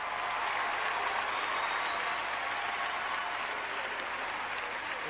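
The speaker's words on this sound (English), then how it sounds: "They are applauding him, as they should." An audience at a standing ovation claps steadily, a dense, continuous wash of applause that stays loud and even throughout.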